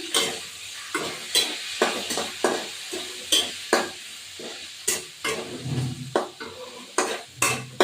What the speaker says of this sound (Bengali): এবার এই পেঁয়াজটা দিয়ে দেবো, দিয়ে পেঁয়াজটা দিয়ে দিলাম